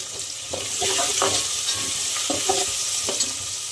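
Onions and tomatoes sizzle in a pan with turmeric and red chili for Gujarati dal dhokli, a steady close frying hiss broken by several spoon-stirring scrapes.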